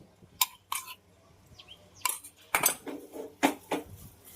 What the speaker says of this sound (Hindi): ये बेसन को लगातार चलाते हुए मुझे 2 से 3 मिनट हो गए हैं।